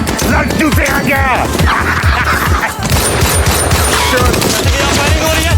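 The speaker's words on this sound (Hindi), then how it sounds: "यहाँ पे शदीद फायरिंग हो रही है।" Heavy, rapid gunfire from an action film scene rattles in dense bursts throughout, loud and close, mixed with shouting voices and the film's background sound.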